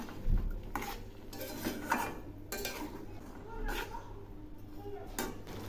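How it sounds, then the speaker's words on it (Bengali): Spices with ginger paste and a splash of water stirred and fried in a pan for a drumstick and potato curry, utensils clinking and scraping against metal in uneven strokes, with a soft sizzle underneath. "এখন এই মশলাগুলো খুব ভালো করে কষিয়ে নেব।"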